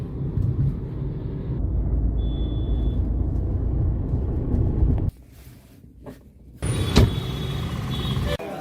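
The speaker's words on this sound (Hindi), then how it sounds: "फुल ट्रैफिक भाई, खतरनाक ट्रैफिक है यहाँ पे" Heavy motor traffic packed across a bridge, heard from a rider on the road: a steady dense engine and road roar with wind buffeting, which cuts out briefly then resumes, with a short high tone near the start.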